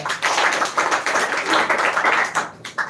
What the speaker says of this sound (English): Once again, clap for her.